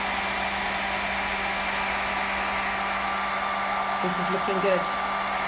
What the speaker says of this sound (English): I'm not going to turn the hairdryer off.